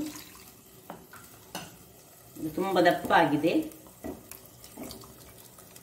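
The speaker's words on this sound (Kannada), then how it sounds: "ಈಗ ಇದಕ್ಕೆ ಸ್ವಲ್ಪ ನೀರನ್ನು ಹಾಕೊಳ್ಳೋದು." Water is poured into a thick Mangalore-style anchovy fish gravy, a short close splash and gurgle in the middle of the clip, with someone speaking around it.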